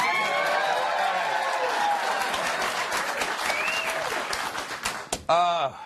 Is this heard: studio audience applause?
yes